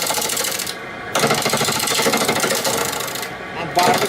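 A wood lathe spins a ficus vase with simulated bark at 800 RPM as spindle turning, running slightly wobbly. It makes a loud, rapid, hammering chatter with brief dips where the cut lets up.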